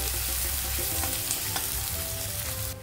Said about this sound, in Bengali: তো আদা রসুনটা ভালোভাবে কষিয়ে নিয়েছি